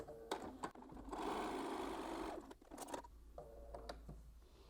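Sewing machine joining jelly roll quilt pieces, a 2.5 by 1.5 inch strip to a 2.5 inch square with a quarter-inch seam, running in one steady close whir for over a second, with short clicks and handling before and after.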